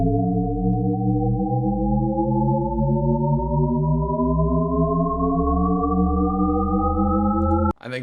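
Heavy synthesizer music from a film soundtrack: a sustained, layered drone whose tones slowly rise over several seconds before cutting off abruptly.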